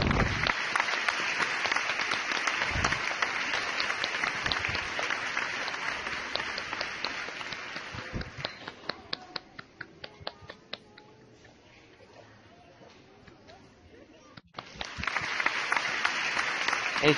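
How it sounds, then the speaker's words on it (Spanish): Applause in the video game XCOM: Enemy Unknown rises as a dense, sustained crowd clapping, thins into scattered sparse claps midway, then swells back to full strength, with no talking over it. "Recibamos con un cálido aplauso a los héroes de XCOM."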